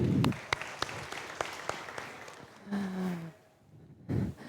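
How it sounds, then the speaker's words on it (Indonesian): A church congregation at a Sunday service claps, loud at the start, then thinning into scattered claps and fading before a short final burst. "kasih tepuk tangan ya."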